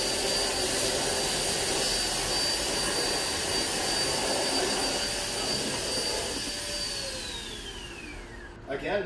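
Hoover ONEPWR Evolve Pet cordless upright vacuum running steadily with a high whining motor tone and airflow hiss, close and loud, the motor pitch winding down near the end.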